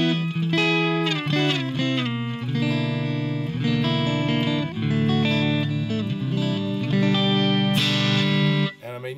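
Electric guitar plays blues phrases through an amplifier with a reverb preset and a slight hum from studio lights, with steady sustained notes and chords all the way through and no talking.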